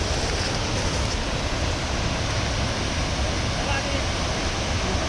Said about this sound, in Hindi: पानी का फोर्स देखो एंड कितना ह्यूज वाटरफॉल है वो देखो